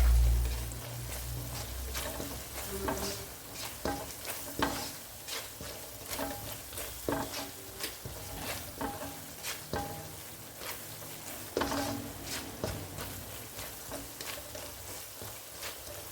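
Garam masala powder being stirred through ingredients in a hot pan for egg rice, with a steady low sizzle under repeated scraping and clinking strokes of a spoon against the pan, no voices.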